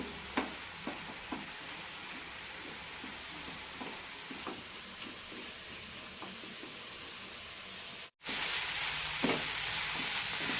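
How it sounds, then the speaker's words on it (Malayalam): Sliced onions sauté in a pan with half a teaspoon of black pepper and three slit green chillies, a soft continuous sizzle punctuated by light scraping stirs, then a short cut and a louder, brighter sizzle; no one speaks. "സവാള നന്നായി ചുവക്കുന്നതുവരെ വഴറ്റിയെടുക്കാം"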